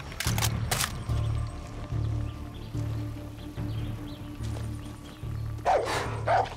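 A dog barks in the shooter game Far Cry 6, repeated deep, rhythmic woofs at fairly close range, continuing steadily with short pauses between bursts.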